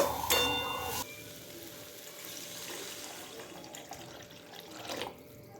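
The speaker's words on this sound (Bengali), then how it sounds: "এখন আমি এর মধ্যে জল দিয়ে দেব।" Water is poured into a pan of Bengali fish curry with potatoes, a short splashing pour at the start followed by a softer, continuous watery hiss and stirring close by, no talking.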